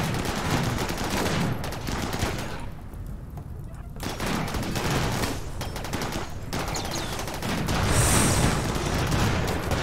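Rimworld combat with inferno cannons and miniguns firing: dense, sustained automatic bursts roar almost without pause, with a brief lull before heavy fire resumes and swells louder near the end.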